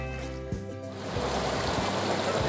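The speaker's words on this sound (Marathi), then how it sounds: "हे असे पाण्याचे छोटे छोटे धबधबे वाहायला लागलेत" Small seasonal waterfalls run across muddy village grassland after rain, giving a steady broadband rush of flowing water that swells a little partway through, with no talking.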